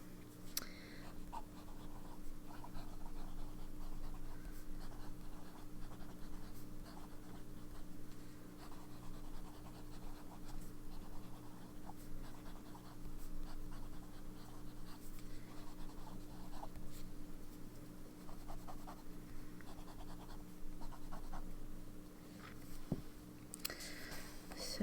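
Fountain pen with a gold nib scratching across paper in close, soft, continuous strokes, writing in Diamine Woodland Evergreen ink, with a steady low hum underneath.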